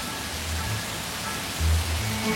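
Steady rain hisses evenly with a soft low rumble underneath, no voices.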